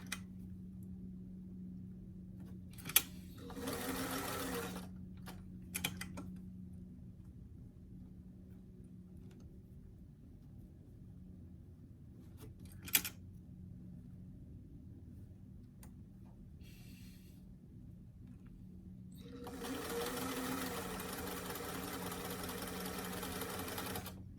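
A sewing machine stitches a small doll t-shirt, running in two short bursts early on and a longer steady run near the end, with quiet pauses and a few sharp clicks between.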